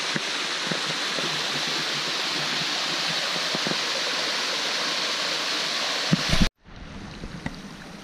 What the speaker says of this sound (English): We found the waterfall.